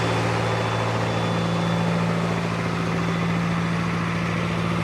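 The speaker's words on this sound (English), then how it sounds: "You could also hear the generator powers up extra when he turned the lights on" A rescue truck's diesel generator runs at a steady, loud, constant drone with a deep low hum throughout, no break or change in pitch.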